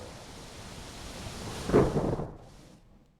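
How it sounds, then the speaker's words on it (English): A low, broad rumble of thunder from a large thunderstorm swells and peaks midway, then fades into a quieter hiss as the storm rolls on. "A giant thunderstorm coming here"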